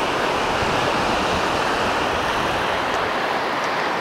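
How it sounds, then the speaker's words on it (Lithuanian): Indian Ocean surf rolls in at Legian Beach in Bali, a steady, dense roar of breaking waves with some wind across the microphone and no voices. "Indijos vandenynas."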